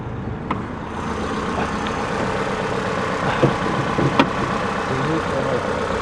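A Geely Emgrand X7 SUV engine, at 62,000 km, idles steadily with a constant low rumble, joined by a few faint clicks and knocks partway through.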